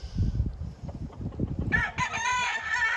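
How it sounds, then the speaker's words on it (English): An old gamefowl rooster crows loudly and close by, a long strained call, preceded by low clucking and scratchy barnyard sounds. "He's an old hatch rooster that I've had for a long time."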